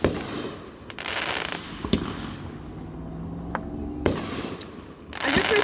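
Fireworks at a 2021 backyard show burst in several sharp cracks and booms, some followed by lingering crackle and fizzing, with a faint chirping background between blasts.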